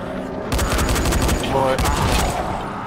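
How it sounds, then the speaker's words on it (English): Gunfire in the zombie game Dying Light, a fast burst of loud close shots crackling in quick succession, with a voice speaking underneath. "Hold on, let me see if I can shoot him."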